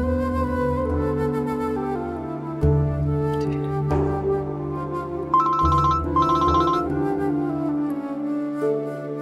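A melodic phone ringtone plays continuously, repeating its tune in a steady loop at moderate volume with no talking over it.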